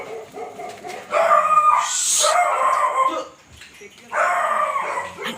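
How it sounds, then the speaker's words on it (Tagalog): Several dogs bark and howl nearby in overlapping bursts, with people talking faintly underneath. "Ang ingay ng mga aso."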